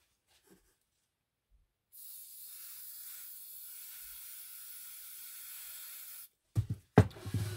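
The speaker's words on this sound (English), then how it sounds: "I'm going to put a little bit more hairspray on here now." Hairspray hisses from an aerosol can in one steady burst lasting about four seconds onto a polyester-fiber deciduous tree for an HO scale model train layout, followed by a few sharp handling clunks.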